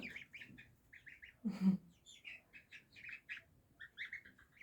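Many small chicks chirping in quick high peeps, fairly close, with a brief soft flutter partway through.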